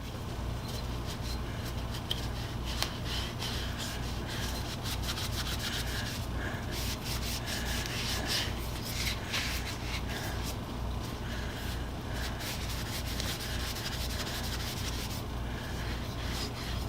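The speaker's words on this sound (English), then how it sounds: "Give the paste wax a little time to dry, and then come back, buff it up a little bit." Paste wax being buffed by hand with a cloth on a restored hammer head in a workshop, a steady close rubbing and scuffing that runs throughout over a constant low hum, with no talking.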